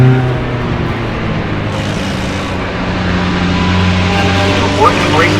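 Single-seater race cars roar past on the front straightaway at Mid-Ohio, a steady loud engine drone with a brief pass-by near the end, while a commentator talks over it.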